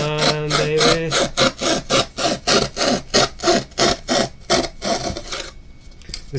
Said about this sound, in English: This is why I don't like sawing inside or on camera.